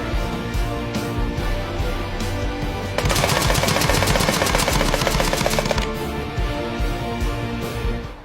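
An LCS SK19 PCP air rifle fires fully automatic at a target 50 yards downrange, a rapid, even burst of about nineteen snapping shots lasting roughly three seconds over steady background noise.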